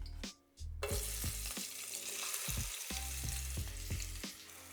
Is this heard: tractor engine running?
no